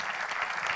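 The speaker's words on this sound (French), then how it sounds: "Et je vous demande de les applaudir, s'il vous plaît." An audience applauds at a trophy award ceremony for eco-activities, a dense, steady patter of many hands clapping at moderate volume throughout the brief moment.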